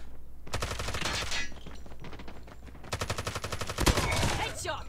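Rapid automatic gunfire from a Holger 26 hip-fired in Call of Duty Mobile, loud dense bursts rattling nearly continuously with a short lull midway, then a second burst.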